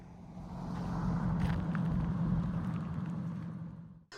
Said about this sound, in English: I took the DBX S through its paces in the hills above Santa Barbara